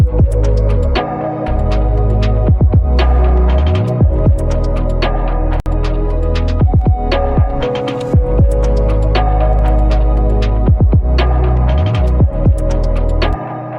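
A wide, reverb-soaked synth lead plays over a dense, throbbing electronic mix with deep pulsing bass, loud and continuous throughout.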